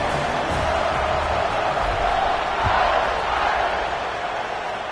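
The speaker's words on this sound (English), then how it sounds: "this crowd is buzzing after that last score" A football stadium crowd buzzes after a score, a dense, loud, continuous roar of many voices that swells slightly midway and never breaks.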